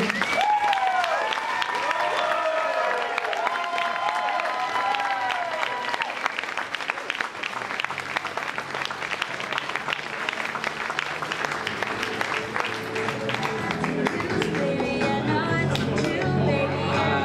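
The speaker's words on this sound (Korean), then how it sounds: "노아랑 한나 들어올 테니까 또 큰 박수로 환영해 주시면 감사하겠습니다" Wedding guests applaud the bride and groom's entrance with sustained, dense clapping lasting the whole stretch, while music and background voices carry on underneath.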